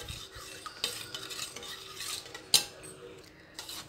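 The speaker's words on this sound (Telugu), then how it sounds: "ఇది కొంచెం మిక్స్ చేసుకోవాలి." Oil is stirred into a whole wheat bread dough mixture with a spoon, giving soft scraping strokes and light clinks against the bowl, close and quiet, with one sharper tap partway through.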